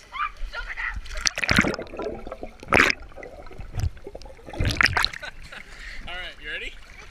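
Splashing and sloshing as a person goes underwater in a pool, several loud bursts of churning water close by, with people talking between them.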